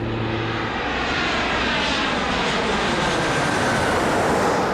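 Jet aircraft at Sea-Tac airport roaring loudly and steadily, a broad continuous engine rumble and whine that swells slightly toward the end, with no voices.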